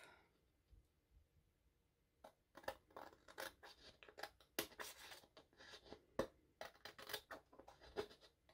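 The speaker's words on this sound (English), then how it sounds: "Let's cut this extra off." Scissors snipping away excess paper while assembling a DIY December planner cover, a quick run of crisp, close cuts and clicks starting after a quiet pause and continuing steadily to the end.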